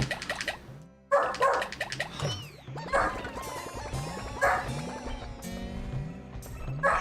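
A puppy named Sky barks repeatedly nearby, with sharp yips and short woofs in an irregular series over a steady hum, and a person talks briefly in the background.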